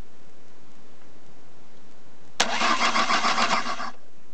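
Car starter motor cranking after the retractor relay solenoid contacts are bridged with a wrench: a sudden loud start into a steady whirring crank lasting about a second and a half, then stopping abruptly, with no talk.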